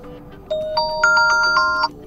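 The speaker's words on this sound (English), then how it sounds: "Go to ringtone and select new alarm sound from the list." An alarm ringtone previews on a Redmi Pad SE tablet's clock app, a bright, loud chime melody of several rising and overlapping tones lasting under two seconds.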